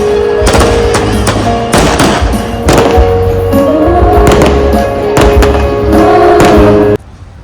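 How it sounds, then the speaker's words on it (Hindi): Firecrackers and fireworks set off at an outdoor college dinner event, a rapid series of loud sharp bangs and cracks in clusters, close by, with crowd noise and voices underneath, ending abruptly. "ये पटाखे वगैरह भी उड़ाने को थे।"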